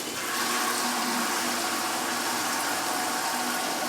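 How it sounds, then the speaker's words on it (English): Steady rushing water pouring to refill a Berkey countertop water filter, a continuous broadband hiss and splash that holds evenly throughout, close and alone. "need to fill the Berkey back up"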